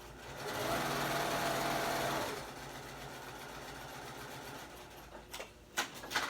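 A sewing machine stitches binding onto a Thanksgiving placemat with a fast, close whir for about two seconds, then stops, leaving a few faint clicks and handling sounds.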